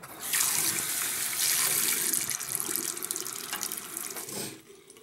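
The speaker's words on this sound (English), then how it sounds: "I just run them under the water" Tap water running into a sink while makeup brushes are rinsed under it, a close, steady splashing stream that stops near the end.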